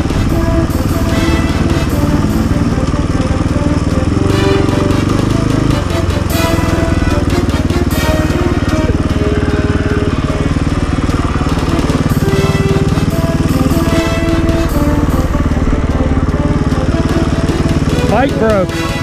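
Motorcycle engine running steadily and loudly throughout on the Parks Highway near Denali, with a constant rough droning under wind noise and voices talking.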